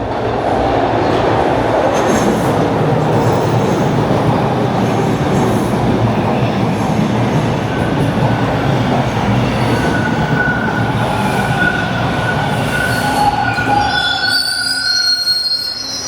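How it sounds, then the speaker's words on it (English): Westbound TTC streetcar passes on Bloor St West in Toronto: a loud, steady rolling rumble with drawn-out wheel squeals on the rails, ending suddenly as it goes by. "Here comes a westbound train."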